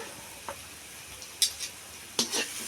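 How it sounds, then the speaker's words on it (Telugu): Masala-coated boiled eggs frying in a pan for an Andhra egg pickle, with soft background sizzle broken by a few brief stirring scrapes and spatters, no talking. "దోరగా వచ్చేటట్టు బాగా ఏంపుకోవాలండి"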